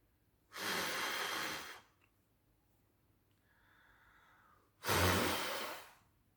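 Two long, forceful breaths blown through a face mask toward a candle, close and loud, each lasting over a second, with a quiet gap between them.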